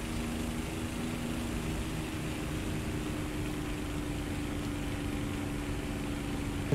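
Propeller aircraft engine drone in War Thunder, a steady loud continuous hum with low harmonic bands holding through the whole stretch, no speech over it.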